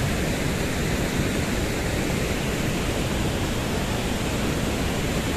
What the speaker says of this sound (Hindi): उधर झरना बह रहा है